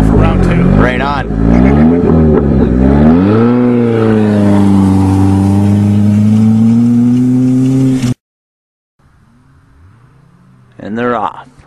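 Drag racing cars rev hard at close range with sweeping, rising engine tones and a loud, sustained roar before cutting to near silence, then a short burst of revving.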